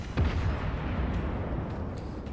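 Warship guns firing in World of Warships, a deep booming rumble of heavy naval shellfire rolling on continuously at moderate distance.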